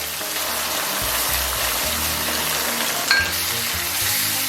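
Spices fry in chili oil for spicy braised beef hooves, a continuous loud sizzle with stirring scrapes, then soy sauce hits the pan in a brief hiss with a faint clink.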